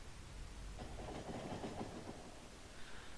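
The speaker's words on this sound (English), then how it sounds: "There's plenty of room for a few trains down here." Trains rolling along the rails in the video game Factorio give a steady, rumbling clickety-clack that holds at moderate loudness throughout.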